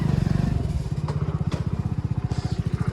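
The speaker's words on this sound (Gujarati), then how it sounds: "બાઇક ગચરા ઉડાન નાખે" A motorcycle rides close over a rough dirt road with a rapid, pulsing engine putter and occasional clattering jolts from the uneven surface.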